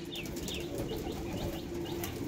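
Several pigeons flap their wings in a burst of takeoff as a pair of Andhra pigeons is released in Sodepur, Panihati, the wingbeats close and steady over a constant outdoor background hum.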